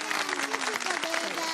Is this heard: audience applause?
yes